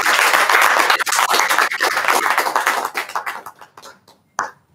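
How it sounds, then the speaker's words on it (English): An audience applauds at a school ceremony, with dense clapping at first that thins into scattered individual claps and fades out, ending with one last isolated clap. "We applaud you and we thank you for having us here today."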